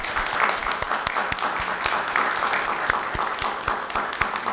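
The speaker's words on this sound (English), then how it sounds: "So I think they deserve a round of applause." Applause from an audience at a town hall meeting, a steady wash of many hands clapping for the full stretch with sharp individual claps standing out and no talking over it.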